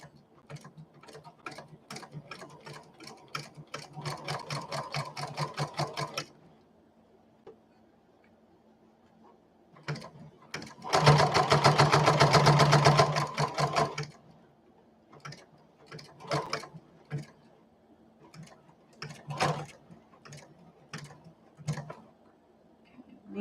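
A sewing machine stitching through two layers of batting and two layers of fabric heavy with thread runs in rapid mechanical bursts, with pauses between runs and scattered single clicks.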